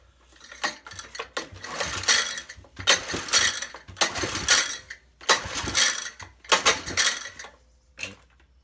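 Clamps being fitted onto a 10hp Tecumseh engine in a scrap yard produce a series of close metallic clanks, ratcheting clicks and rattles in irregular bursts, with short pauses between them and no talking.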